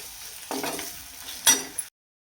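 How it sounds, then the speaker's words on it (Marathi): Soybeans stirred and frying with red chilli masala in a pan, a soft steady sizzle broken by scraping strokes of a spoon, then a sharp clatter before it cuts off. "त्याच्यामध्येच मी सोयाबीन आहे एकदा थोडीशी भाजून घेते"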